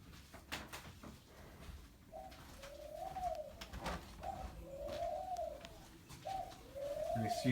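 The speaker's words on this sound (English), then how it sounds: "excuse the birds in the background, it's really nothing I can do about that unless I yell at them" Caged birds, pigeons or doves, coo repeatedly in the background of a house, a series of soft low calls in an even rhythm with scattered clicks and knocks.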